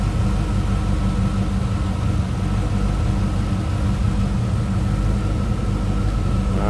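Close, steady low rumble of the 5.7 liter V8 in a 1994 Chevrolet Corvette convertible at idle, running evenly for several seconds with no voices over it.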